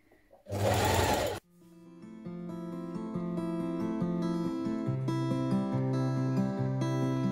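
A sewing machine stitches a single fold hem on a bias-cut McCall's 7116 dress, opening with a loud burst of noise before settling into a steady whirring run close by.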